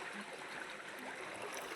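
Irrigation water flows steadily into a wheat field, a continuous soft rushing and trickling wash, close by with no talk.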